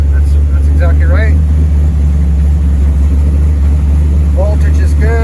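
Car engine idling around 700–800 RPM while warming up, a loud, steady low rumble that stays constant throughout, with a voice speaking briefly over it near the start and end.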